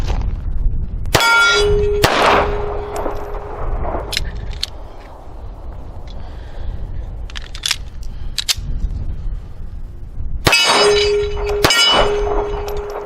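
Taurus Spectrum pistol fired with soft point ammo: a couple of sharp, loud metallic reports with ringing decay near the start and a pair more near the end, separated by quieter outdoor ambience.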